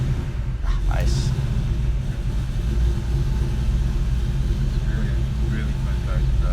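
A classic 1967 Ford Mustang muscle car rumbles along while driving, its deep engine drone steady and close throughout, with people talking over it.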